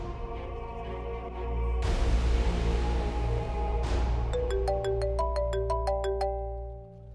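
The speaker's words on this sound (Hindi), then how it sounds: "भाई को फोन करती हूँ।" A phone ringtone plays during a call, a loud electronic melody of sustained tones followed by a rapid run of bright, repeating beeped notes, with no voices.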